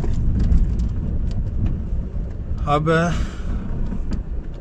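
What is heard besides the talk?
car being driven through narrow streets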